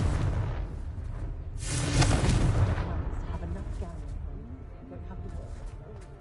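A Confringo fire spell bursts in Hogwarts Legacy, a loud booming explosion with a rushing whoosh that swells at about two seconds and then rumbles away, while a voice speaks around it.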